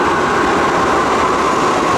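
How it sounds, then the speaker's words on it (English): New York City subway train arriving, a loud continuous roar of wheels and rails close by with a high metallic whine running through it, filling the whole moment. "Oh, I'm sorry, there's a subway coming."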